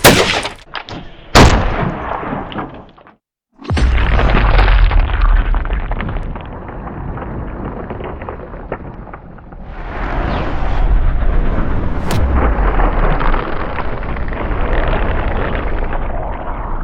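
Black powder pistol fired into a target head, a sharp loud report near the start followed by a brief dropout, then booming, rumbling blasts and sustained noisy roaring.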